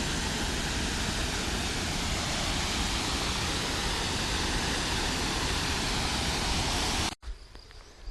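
A waterfall roars steadily as a loud, dense wash of falling water, then cuts off abruptly near the end, leaving quieter outdoor ambience.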